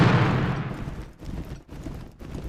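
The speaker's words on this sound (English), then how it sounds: "Lobau's artillery fires." Artillery cannon fire in a Waterloo battle strategy game, a loud booming roar that decays over a second, followed by rumbling, scattered distant shots.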